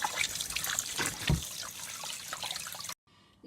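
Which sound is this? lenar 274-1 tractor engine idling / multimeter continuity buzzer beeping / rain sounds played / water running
water running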